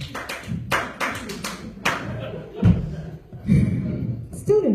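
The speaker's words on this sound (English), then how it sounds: "maybe I need to clap in a beat, so I clap in a beat." A performer claps by hand in a rough beat during a comedy routine, sharp separate claps and thuds in an uneven rhythm, close and fairly loud, with a voice talking in between.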